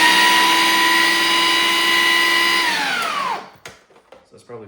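A food processor whirs loudly and steadily while blending a pesto cream sauce, then spins down with a falling whine and stops, leaving a few light clatters.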